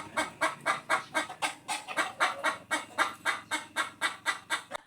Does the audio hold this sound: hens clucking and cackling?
yes